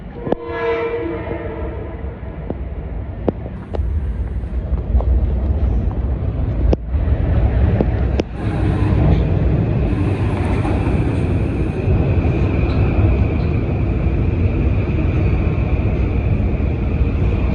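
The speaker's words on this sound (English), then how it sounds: "comes the train to Stamford coming." Kawasaki M8 train arriving on the Harlem Line bound for Stamford, opening with a loud harmonic horn blast, then a few sharp clanks before a continuous heavy rolling roar and hiss that fills the rest of the clip.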